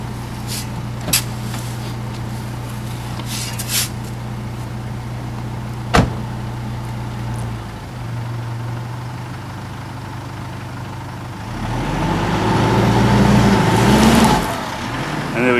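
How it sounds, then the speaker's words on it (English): Four-wheel-drive vehicle pulled out of sand on MAXTRAX recovery boards, idling with a few clunks at first, then the engine revving up and pulling away near the end. "My trusty associate now will drive the vehicle out for us."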